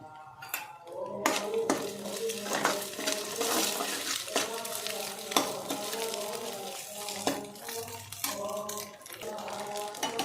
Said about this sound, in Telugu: కొంచెం ఇవి ఫ్రై కావాలి.